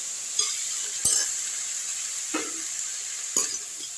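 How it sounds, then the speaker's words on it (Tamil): Vegetables sautéing in a pan for Tirunelveli kootanchoru, a steady close sizzle with a few sharp clinks of a spoon against the pan as it is stirred. "நல்லா வதக்கி விட்டுருவோம்."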